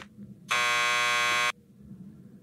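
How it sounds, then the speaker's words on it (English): A door buzzer in Max Payne 2 sounds one loud, steady electric buzz lasting about a second, rising sharply out of quiet room tone and cutting off just as abruptly. "Just press the buzzer by the door."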